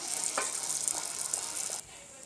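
Appam batter fries in hot oil with a steady bright sizzle and a few soft scraping stirs, close and continuous, dropping to a quieter hiss near the end.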